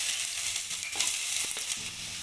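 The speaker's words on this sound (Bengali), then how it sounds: "আদা রসুনটাকে ভালো করে আমি ভেজে নেব" Chopped ginger and garlic fry in hot oil in a wok, giving a bright, continuous sizzle with a few brief stirring clicks, close and steady.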